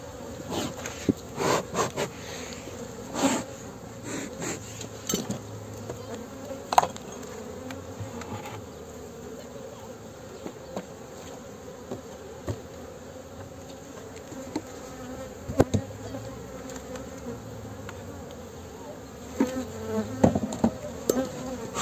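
Honey bees buzz around a hive, a steady insect drone with individual bees passing close now and then, punctuated by occasional soft knocks and clicks.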